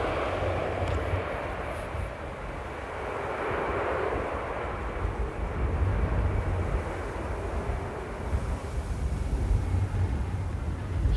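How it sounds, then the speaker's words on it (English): A fixed-wing airliner comes in to land at Amsterdam Airport in gusty wind, its engine roar rumbling and rising from a distance with a blustery, buffeting wash and no speech. "Let's rewatch that landing."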